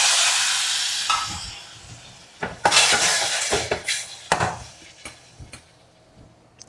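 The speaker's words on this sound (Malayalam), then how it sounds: "അപ്പോൾ ആ തക്കാളി ഇതിലേക്ക് ഇട്ട് കൊടുക്കാം." Chopped tomatoes go into a hot pan for a Kerala-style prawn roast curry, a burst of hissing sizzle followed by scattered clinks and scrapes of a spoon against the pan, with no talking.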